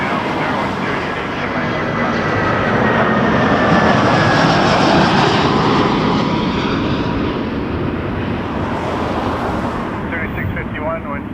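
Aircraft engines roar at Toronto Pearson Airport during a takeoff from runway 23, a loud continuous rumble that swells through the middle and then eases off slightly toward the end.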